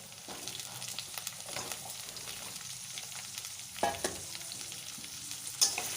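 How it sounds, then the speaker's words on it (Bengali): Fried onions with freshly added chopped potatoes sizzle in a pan for a Bengali potato and fish curry, a steady close crackle broken by occasional sharp scrapes and clacks of a stirring utensil, with no talking. "এবার আমি এখানে কিছু কেটে রাখা আলুর কুচি এর মধ্যে দিয়ে দেবো"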